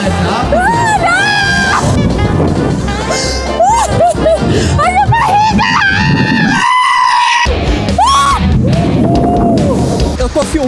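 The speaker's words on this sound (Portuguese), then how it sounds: "eu só tô ouvindo ela gritar" A woman screams again and again, loud and close, on a fast spinning amusement park ride, her wavering shrieks layered over crowd noise and other voices, with a brief drop to near silence partway through.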